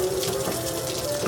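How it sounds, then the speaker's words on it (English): Bluegill fillets are rinsed under running tap water, a loud, steady gush of flowing water close by with no voices. "why I'm rinsing them"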